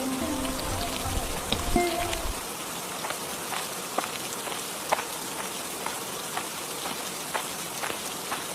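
Rain falls steadily on surfaces outdoors, a dense even patter with scattered louder drops throughout, and a brief low hum near the start.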